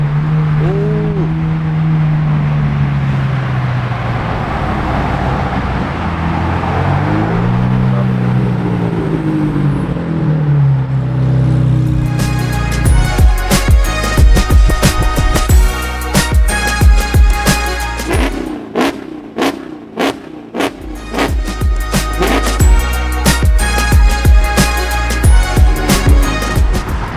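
Cars at a car meet: a steady engine drone and passing vehicles at first, then revving engines with loud bursts and pops layered over a busy crowd of running motors.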